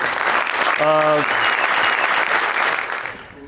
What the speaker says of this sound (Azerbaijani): Gəlin onu alqışlayaq